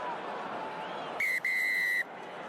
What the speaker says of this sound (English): Referee's whistle is gone.